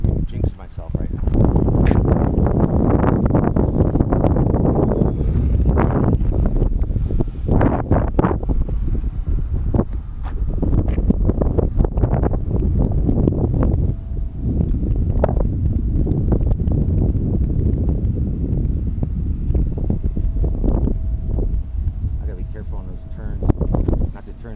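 Gusting wind buffets the microphone outdoors during the first flight of an ARC Cessna 177 Cardinal electric RC plane, loud rough rumbling bursts rising and falling throughout, with a person talking over it at times.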